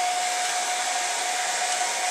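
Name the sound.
heat gun blowing hot air on nitro engine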